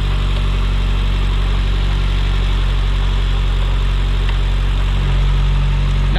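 A 2011 Mitsubishi Lancer Evo X MR with a front-mount intercooler and Cobb silicone intake idling up close, a loud, steady low engine hum with even vibration and no talking.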